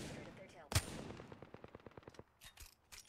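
Video game gunfire aimed at a decoy: a loud shot followed by a rapid, evenly spaced burst of automatic fire, fading into scattered shots.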